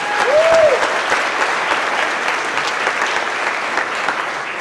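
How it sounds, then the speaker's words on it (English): A round of applause at a Melton Truck Lines monthly staff celebration, close and sustained clapping from a crowd, strongest at the start and holding steady without speech. "Let's give her a round of applause."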